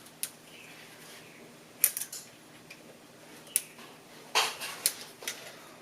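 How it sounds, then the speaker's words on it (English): Hose clamps on the PCV hose of a 1990-2005 Mazda MX5 Miata are worked loose, giving a handful of sharp metallic clicks and creaks at close range against a quiet background. "The first thing to do is to remove this hose clamp here and this one over here."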